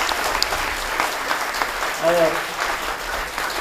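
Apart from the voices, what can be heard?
audience applause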